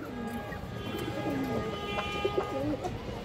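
A Bagha female pigeon of an old breeding line coos in low, rolling phrases, several soft calls rising and falling over a busy, noisy loft background with faint voices.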